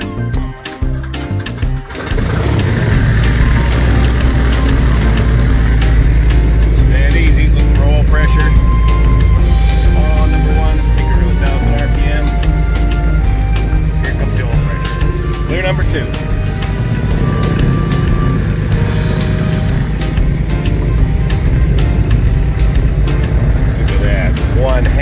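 Piston engine of a 1959 Cessna 310C twin cranking and catching after a brief quiet start, then settling into a loud, steady low roar with a prop buzz that runs close and continuous, with speech heard over it.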